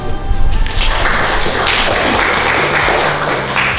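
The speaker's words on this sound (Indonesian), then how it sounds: "Oke, lanjut dari kelompok 1 silakan diberikan aplaus." Classroom applause for the first group during an Indonesian teacher performance assessment, a dense, steady wash of many hands clapping that holds at full level for about four seconds with no talk over it.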